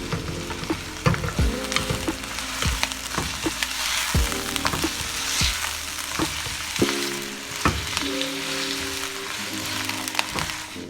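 Chicken mince and onions fry in a pan with a constant sizzle, broken by clattering stirring and scraping strokes. A steady hum runs faintly underneath.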